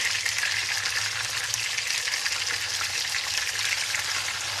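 Steady, dense sizzling of plain unfloured pork chops frying in a pan, loud and close, a continuous hiss that holds evenly throughout with no talk.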